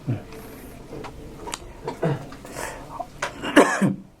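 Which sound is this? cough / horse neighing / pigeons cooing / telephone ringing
cough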